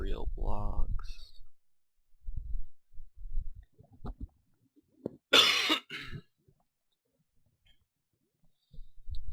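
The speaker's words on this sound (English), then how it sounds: "Sorry, I had to cough there." A single sharp cough breaks a quiet stretch, with a bit of low mumbling and soft clicks before and after.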